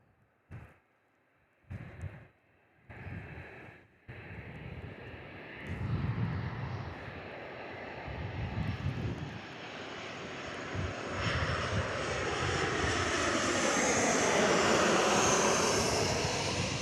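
An ex-KLM Velocity Boeing 737 touches down on runway 03 at Perth airport. Engine noise builds from far off into a loud, sustained jet roar with a falling whine as the plane passes overhead. A few thumps come early on.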